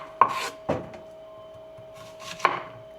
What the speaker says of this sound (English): Alright, so we're just gonna do cut some onions.